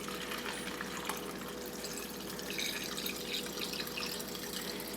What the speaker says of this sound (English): So I just pour that in here.